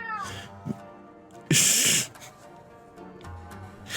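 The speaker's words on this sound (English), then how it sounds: "Ignore that cat in the background." A cat meows in the background, a few drawn-out cries with a louder burst in the middle, mixed with game dialogue and voices from Final Fantasy XIV.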